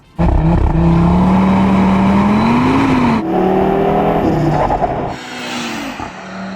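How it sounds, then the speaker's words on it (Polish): The five-cylinder engine of an Audi RS3 revs hard and close, with rising and falling throttle blips and a gear-change break partway through. It sounds loud and continuous, with no talking. "Unikalna rzecz o RS3 w porównaniu do innych hot to fakt, że ma pięciocylindrowy silnik."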